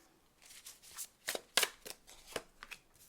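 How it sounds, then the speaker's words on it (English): Oracle cards being shuffled and pulled from a deck during a Gemini tarot reading: a quick run of soft papery slaps and riffles, close and fairly quiet, coming in uneven bursts with no voice. "I'm going to go ahead and just pull your oracle cards as well"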